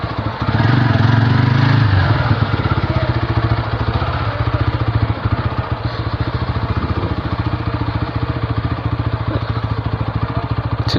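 A motorcycle engine runs loud and close in a village setting, its rapid, rattling putter steady throughout, with a brief rise in pitch near the start and no voices.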